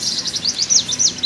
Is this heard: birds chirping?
yes